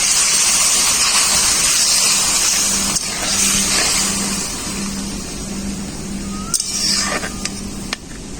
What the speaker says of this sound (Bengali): এরপর অল্প পরিমাণে একটু জল দিয়ে দেবো।